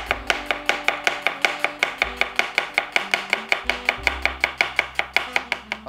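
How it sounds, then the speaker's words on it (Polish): A knife slices an onion into thin strips on a cutting board, making a fast, steady run of crisp chops, close up, with no voices. "Musimy to pociąć w piórka."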